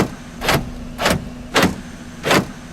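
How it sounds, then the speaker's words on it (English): Four evenly spaced solid thumps, each a car door swung shut on a used car being inspected, with a steady low hum running underneath and no talking. "open the door, close the door, see if it closes well"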